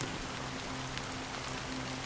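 Steady rain patters on a surface in a video game, a constant even hiss of drops with no talk over it.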